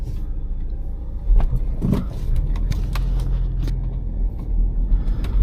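A 2015 BMW 328i F30 M-Sport setting off and driving, with a steady low engine rumble and road noise heard from inside the cabin, plus a few clicks and light knocks.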